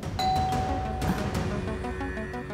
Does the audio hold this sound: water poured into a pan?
no